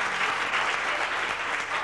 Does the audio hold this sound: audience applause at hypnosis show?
yes